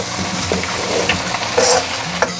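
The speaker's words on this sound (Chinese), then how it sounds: "中小火煎了2分钟，底下金黄，我们给它翻一个面，继续煎" Eggs pan-fry in hot oil over medium-low heat and are flipped to cook the other side. A close, steady sizzle runs throughout with a few light utensil clicks, and no voices.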